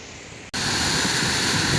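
Steady, loud rush of a waterfall beside a mill, recorded from the top of the falls. It cuts in abruptly after a near-silent half second and then holds a constant broadband roar with no voices.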